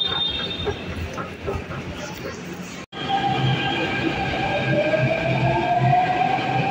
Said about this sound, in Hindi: मेट्रो स्टेशन पहुंच चुके हैं हम लोग